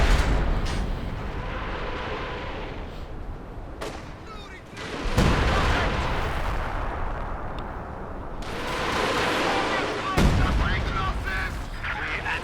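Artillery fire mission in the World War II strategy game Company of Heroes 2, with booming shell impacts and bursts of gunfire spaced through the clip under a commentator's voice.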